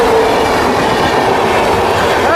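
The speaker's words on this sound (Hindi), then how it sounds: "बिहार संपर्क क्रांति एक्सप्रेस वेब 7 लोकोमोटिव गजब का हॉकिंग देते हुए ट्रैक साउंड सुने" The Bihar Sampark Kranti Express, hauled by a WAP-7 locomotive, rolls past close by as a loud, continuous rumble of wheels on track with a dense, even clatter throughout.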